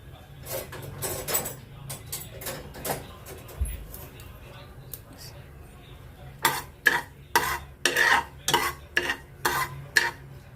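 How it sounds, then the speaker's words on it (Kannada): Mustard seeds tempering in hot oil in a pressure cooker, a run of sharp crackling pops coming in irregular bursts that grow denser and louder toward the end, with a voice speaking at times. "ಇವಾಗ ಸಾಸಿವೆ ಹಾಕ್ಕೋತಾ ಇದ್ದೀನಿ."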